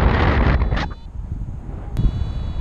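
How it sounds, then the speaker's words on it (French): Wind buffets the microphone during a paragliding flight at Mont Ham, producing loud rumbling gusts that ease off partway through and then surge again, with a short sharp knock near the end. "pense avoir du vent dans la face"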